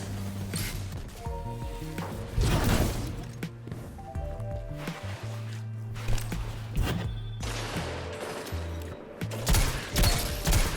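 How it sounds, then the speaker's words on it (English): Shotgun blasts and combat noise from Destiny 2 Trials of Osiris on the Midtown map, with several sharp bursts scattered across the stretch among footsteps and impacts, moderately loud with a faint musical bed underneath. "The radar shows someone just around the corner, so I'll swap to a shotgun to prepare."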